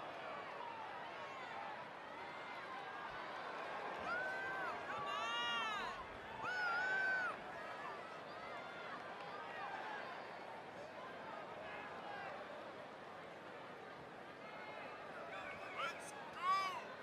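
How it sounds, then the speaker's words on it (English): Wrestling arena crowd in the WWE 2K20 game, a constant roaring murmur with swelling cheers and a few whistles, kept under steady commentator talk. "it sounds to me like the crowd is more than ready for this one"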